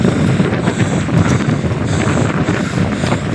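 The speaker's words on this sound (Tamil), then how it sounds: "சில்லுன்னு காற்று வரும்" Cool wind blowing hard across a hilltop near a temple, a loud steady buffeting rush over the microphone with gusty low rumbles, no voices.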